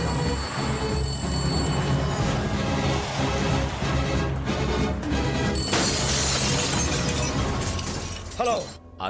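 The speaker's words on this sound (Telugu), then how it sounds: "అద్దాలు కూడా బద్దలు కొట్టుకొచ్చేస్తున్నావంటే" A glass window or pane shatters during a Telugu comedy film scene, a bright crash of breaking glass amid loud music and voices, with a telephone ringing earlier in the scene.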